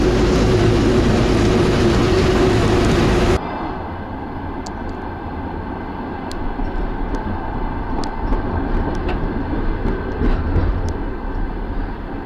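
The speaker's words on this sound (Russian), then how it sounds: "Так, где же наш поезд? Его нет. Ага, вот он" A passenger train at a station rumbles loudly at first, then the noise drops to a lower steady rolling din with occasional sharp high clicks and squeals, no talking.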